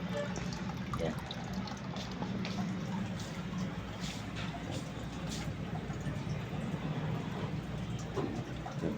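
Water is poured slowly, a little at a time, into a molly fish tank, giving a soft continuous trickle and splashing, with occasional faint voice in the background.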